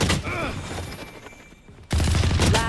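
Gunfire in a ranked Valorant match: bursts of rapid shots, loud and close, first at the start, then a quieter stretch, then a heavy burst near the end, with voices chattering over it.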